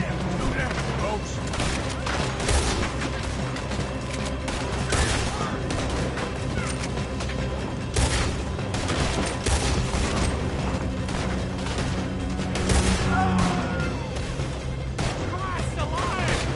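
Dense gunfire rattles through a video game shootout during a robbery, shots crowding together in a continuous loud barrage with booms, while voices shout over the fighting.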